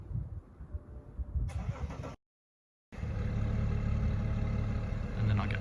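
A starter cranks on a 2010 BMW X5 35d diesel, a short gap of silence follows, then the engine catches and settles into a steady, low rumbling idle.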